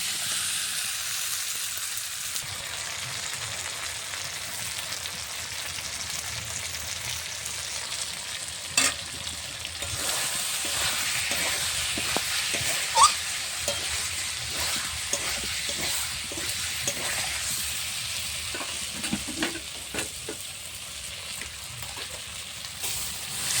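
Whole potatoes sizzle steadily in a hot pan for aloo dum while a utensil scrapes and stirs them every few seconds, close up and without talk.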